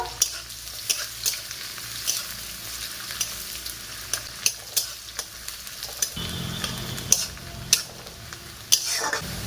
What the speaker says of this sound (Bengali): এলাচ, লঙ্কা, পেঁয়াজ কুচি দিয়ে কিছুক্ষণ ভেজে নেব।